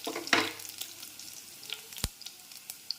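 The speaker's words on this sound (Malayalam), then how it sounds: "കുറച്ച് വെളുത്തുള്ളി ഇടുന്നുണ്ട് നമ്മൾ" Garlic frying in a pan for beetroot thoran, with a few soft crackles and scraping ticks over a quiet sizzle, fairly faint and with no talking.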